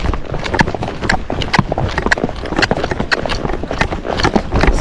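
Hooves of a Tennessee Walking Horse clip-clopping in a quick, uneven rhythm during a trail workout, sharp close strikes repeating steadily throughout.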